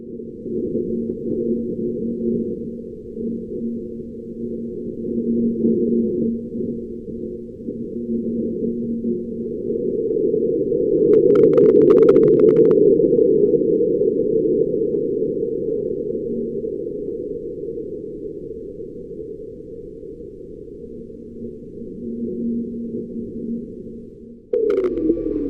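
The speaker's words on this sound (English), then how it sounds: "The sounds were created from the ground vibrations as InSight detected 3 distinct events: Martian wind, a Mars quake, and the spacecraft's own robotic arm" Martian ground vibrations picked up by the InSight lander's seismometer on Mars, turned into sound: a low, steady rumbling drone of wind that swells in the middle, with a faint rattle of the robotic arm and a brief sweep near the end.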